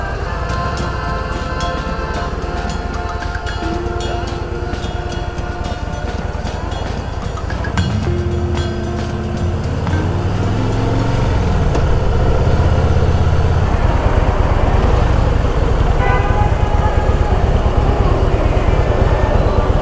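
Harley-Davidson Fat Boy motorcycle riding, a loud steady engine rumble that rises as the bike accelerates, with wind noise and traffic around it.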